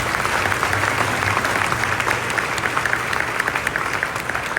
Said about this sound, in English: Please help me thanking them by giving them a big round of applause.